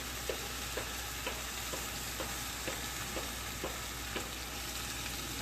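Halved mushrooms sear in olive oil in a pan with a steady, close sizzle, broken by soft regular taps from stirring or moving them about, with no voices.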